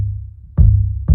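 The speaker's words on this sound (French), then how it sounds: "Et ça c'est le son de Altec Lansing." Two deep kick drum thuds captured by a homemade subkick microphone made from an Altec Lansing speaker, the low boom sustaining between hits roughly half a second apart.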